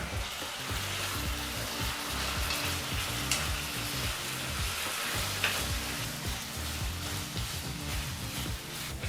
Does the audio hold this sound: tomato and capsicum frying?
yes